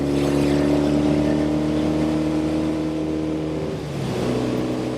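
Norton Commando Fastback motorcycle engine running steadily while riding on an interstate highway, a loud continuous drone with wind noise, its pitch dropping briefly near the end as it shifts gears.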